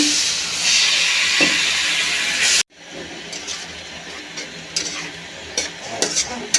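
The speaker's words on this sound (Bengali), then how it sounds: "মশলাটা ভালো করে কষিয়ে নেব। একটু জল দিয়ে দিচ্ছি" Water hits a frying paste of turmeric, cumin and coriander in a pan, bursting into a loud, even sizzling hiss that cuts off abruptly, then settles into quieter scattered crackles and ticks.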